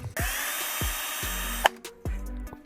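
A power tool works at broken bolts on a BMW S1000RR, with short whirring bursts that stop and restart and a longer sustained high whine, plus a sharp metallic clack.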